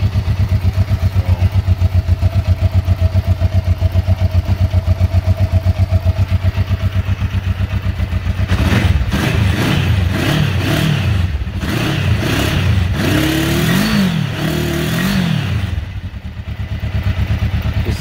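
A 1994 Kawasaki Vulcan 500 motorcycle with 12,266 miles idles loudly and evenly at close range, then is revved repeatedly in rising and falling bursts before settling back toward idle.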